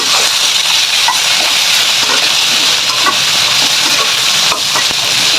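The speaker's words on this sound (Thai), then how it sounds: "ผัดไปผัดไปนะคะหมูกับถัวแปบเราก็จะสุกพร้อมๆกันเลยค่ ะ" Flat beans and pork are stir-fried together in a hot pan, a loud, continuous sizzle and hiss with repeated scraping of the spatula against the pan, close up and with no voices.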